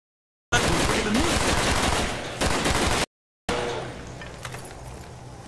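Rapid automatic gunfire in Call of Duty Black Ops zombies mode, loud continuous bursts interrupted by a short silent gap before firing resumes and gradually thins out.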